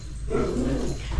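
Excited dogs make a short, close burst of yelping, whimpering vocal sound at moderate loudness, with a bump of handling noise at the end.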